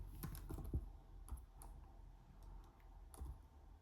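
Someone types an equation on a computer keyboard, a soft run of close key clicks in irregular bursts, quiet and without talk.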